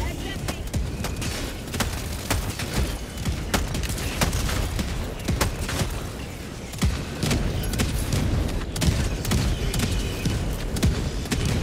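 Autocannon fire in the Helldivers 2 video game, heavy rapid booming shots and thuds filling the whole stretch, dense and loud with explosions mixed in.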